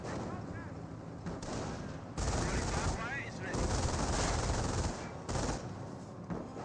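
Squad gunfire in the video game Company of Heroes, rattling bursts and volleys of rifle and machine-gun fire between infantry squads, dense and continuous with shifting intensity.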